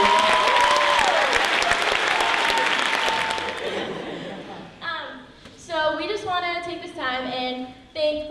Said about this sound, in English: And another round of applause for all of our seniors.